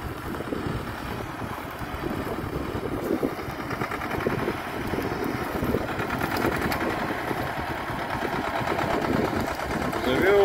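A T-25 tractor engine runs at a distance in a potato field, a steady buzzing chug that holds throughout and grows slightly louder toward the end, mixed with outdoor wind noise.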